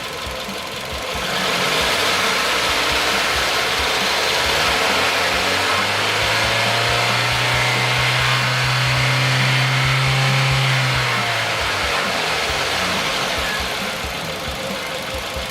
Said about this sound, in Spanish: Vamos a dar un acelerón leve de 0 a 4000 revoluciones y luego a soltar